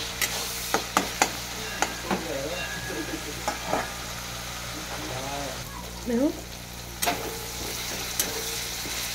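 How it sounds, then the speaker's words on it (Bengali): Onions fry and get stirred in a pan of spice paste for a home-style chicken curry with new potatoes, giving a steady sizzle with scraping strokes, while someone talks briefly over it. "পেঁয়াজ মশলাটা আমার পুরো একদম ভাজা হয়ে গেছে"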